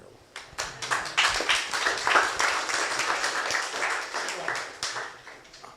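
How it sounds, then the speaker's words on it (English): Audience applause at the 2025 Galileo Medal award ceremony, a steady wash of many hands clapping that swells early and holds fairly loud throughout, with scattered sharper claps standing out. "So let's applaud Galileo"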